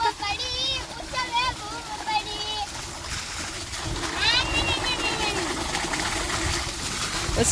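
Steady rushing water pours and splashes into a farm tank filled by a motor pump, with high chirping bird calls and voices over the top.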